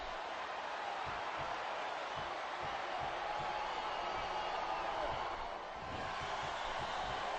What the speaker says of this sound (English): This capacity crowd is making their opinions known tonight.